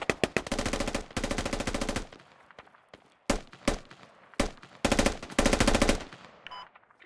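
Automatic gunfire in the military shooter game Squad, several rapid bursts of rattling shots separated by brief pauses, loud and dry with no talking over it.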